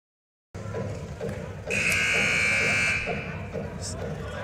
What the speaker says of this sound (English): Second buzzer goes off as the team's going to start to break up their huddles now.